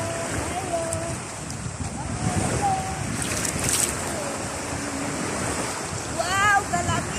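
Sea waves wash onto the shore at a beach, with a constant surf roar and wind noise over the microphone, while people call out and chatter in the background.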